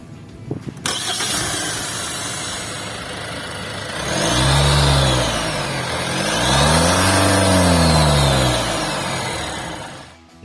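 A Kia Grand Carnival 2.2 turbo diesel starts, idles, then revs up twice in long rising and falling sweeps, a loud close engine drone that swells and fades with no one speaking.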